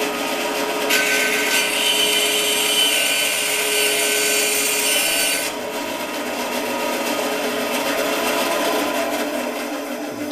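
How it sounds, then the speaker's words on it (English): A hand saw cuts through a wooden board, giving a loud, close rasping scrape with repeated strokes that brighten for a few seconds, then continue more softly. No voices are heard. "There you get a cut about half the way through the board."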